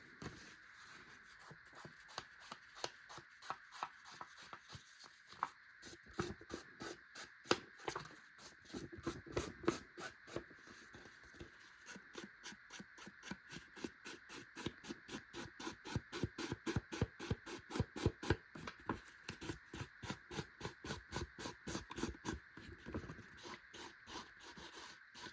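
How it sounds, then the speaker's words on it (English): Ink pad dabbed repeatedly along paper edges for a scrapbook page, a long run of quick, soft rhythmic taps and brushing scuffs, close and steady throughout with no talking. "I'm going to ink these sides real quick"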